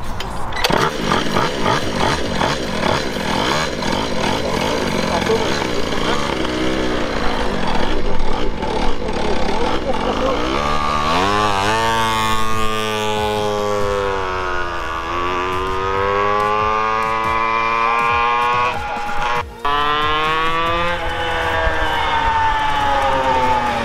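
A Puch Maxi moped fitted with a new Athena 70cc racing engine revs hard and loud nearby, its buzzing two-stroke note climbing and falling in repeated sweeps, with voices talking now and then.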